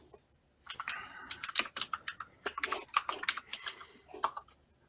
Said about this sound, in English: Is that you typing, Victor?